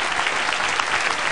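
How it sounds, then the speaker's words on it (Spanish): Loud, steady applause from a studio audience, dense clapping throughout with no gaps. "Fuerte el aplauso."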